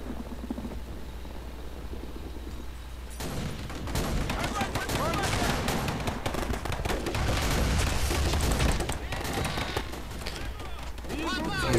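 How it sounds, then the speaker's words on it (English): Battle gunfire in the World War II strategy game Men of War: Red Tide, a dense continuous crackle of rifle and machine-gun shots mixed with rumbling, beginning quieter then swelling into a steady loud barrage. "Looks like they're shooting all over the place."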